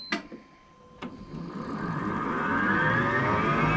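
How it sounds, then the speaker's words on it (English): An electric motor on a Solis SV24 electric tractor spools up a hydraulic pump, starting with a couple of clicks and then building into a steady, rising whine that grows louder and holds. "Now you hear the electric motor spooling up the hydraulic pump."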